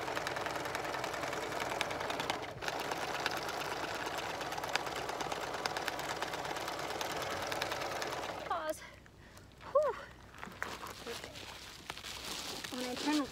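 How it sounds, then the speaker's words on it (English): A sewing machine stitches a van window cover outdoors, giving a steady mechanical whir that runs for several seconds before stopping, with faint handling noises and brief soft talk afterward. "Here we are outside sewing with no clips."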